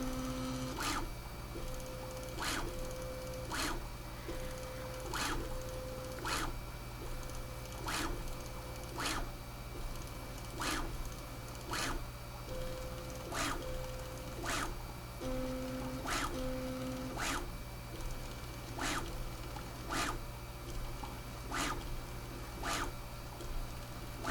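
Bambu Lab A1 Mini 3D printer running, a quiet steady hum with sharp clicks repeating at a regular pace and short tonal motor beeps between them.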